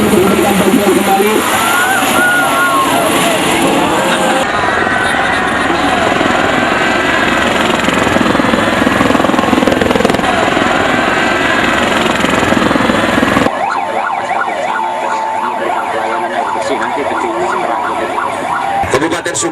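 A helicopter flies overhead during a disaster drill in Subang Regency, a loud, continuous rotor roar that drops off sharply near the end, with a siren-like wail mixed in.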